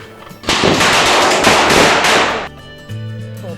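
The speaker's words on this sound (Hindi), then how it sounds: "और ये जल उठे पटाखे" Firecrackers set off by a remote firing machine crackle in a loud, rapid string of sharp pops for about two seconds, then stop abruptly, leaving a quieter tone behind.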